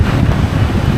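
Strong wind gust roaring across the microphone while windfoiling on open water, a steady low buffeting rush with faint wave wash beneath, loud and continuous throughout.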